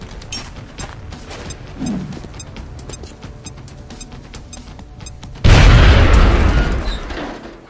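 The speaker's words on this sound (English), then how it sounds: "Now toss your grenade at the enemy in front of you." A grenade explodes in the video game XCOM Enemy Unknown, a loud, sudden boom arriving after several seconds of quiet clicking and mechanical game sounds, then slowly fading.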